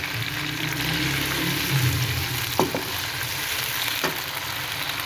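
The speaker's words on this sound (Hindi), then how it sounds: "हल्का सा मैं इसमें पानी का छींटा लगाऊंगी" Large chopped tomato frying in a pan with a splash of water, a steady close sizzle with a brief louder hiss and a few stirring clinks against the pan.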